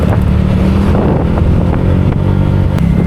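A Honda PCX 150 scooter on a long solo road tour, heard as a loud, steady engine drone buried in heavy wind rush against the microphone, continuous and unbroken throughout.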